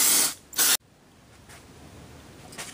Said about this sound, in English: Now I'm just going to go ahead and spray it with this contact cleaner